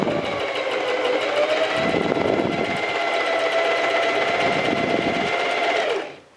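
A sewing machine runs steadily for about six seconds, stitching a straight half-inch bodice seam with a fast, even mechanical whir close by, then stops.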